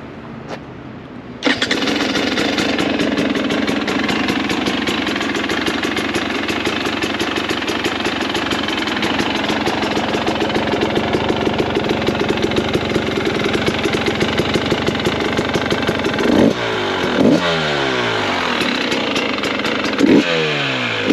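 2022 KTM 300 XC two-stroke dirt bike firing up after a quiet moment, then idling with a rapid popping beat, followed by sharp throttle blips near the end; loud and close.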